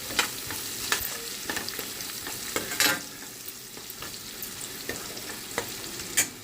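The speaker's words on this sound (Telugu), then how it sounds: "దీంట్లో వేసేసి మంచిగా ఫ్రై చేసేద్దాం" Onions fry with cumin powder, coriander powder and fenugreek powder for a spinach curry, a steady soft sizzle broken by regular scrapes and taps of a stirring spoon against the pan, close by with no talking.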